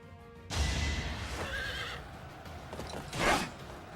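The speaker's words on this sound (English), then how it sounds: "Why has he got a horse?" Loud whinnying from a horse in the Fire Emblem: Three Houses video game, with a second neigh near the end and hooves clopping, no voices present.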